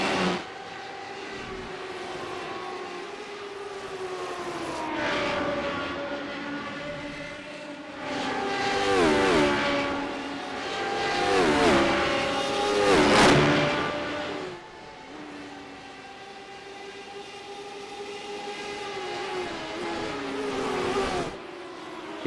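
Engine whine from GT4 race cars in a sim racing game, with sustained harmonic tones that rise and fall as cars pass, loudest in the middle and steady throughout.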